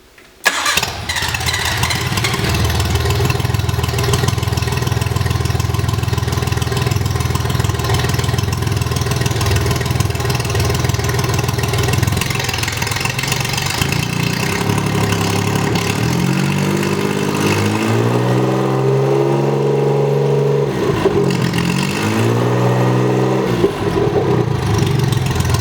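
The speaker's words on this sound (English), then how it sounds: "allowed to turn on and start the engine via USB, using a Max MSP patch to trigger the motor in real time from the computer" A vehicle engine cranks and catches, then runs steadily at idle, switched on through USB-controlled relays from a computer patch; later it revs up and down in rising and falling sweeps, loud and close with no talking.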